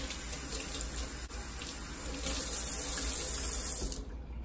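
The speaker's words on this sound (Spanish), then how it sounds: "vamos entonces a enjuagar otra vez el pañito con agua caliente" Hot water runs steadily from a tap into a sink as a cleaning cloth is rinsed under it, a continuous close splashing hiss with no speech.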